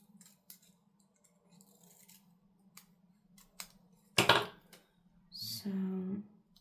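Scissors close a few times near at hand while trimming a paper planner sticker sheet, giving quick soft snips and then a longer cutting stroke with a slight metallic ring.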